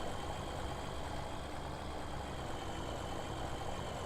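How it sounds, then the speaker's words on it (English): The DW5 T-Dub tractor in a farming sim runs at a steady idle, a continuous low engine drone with no speech over it. "This little old T-Dub, this DW5 is a fantastic little tractor."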